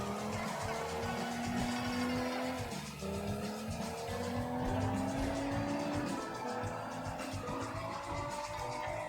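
A car in the video game Sleeping Dogs drives hard with its engine whining and tires squealing in long, rising screeches, loud and continuous throughout.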